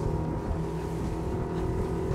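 Honda BF 250 outboard motor on a boat runs hard at high revs, a loud, steady, dense engine roar mixed with water and wind rush, close and continuous throughout.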